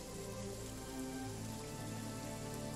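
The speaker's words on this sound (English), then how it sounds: "it's nighttime and it's raining" Steady rain falling at night in the Jagged Alliance 3 video game, a dense, continuous hiss of drops on surfaces that stays even and moderately quiet throughout, with no voices.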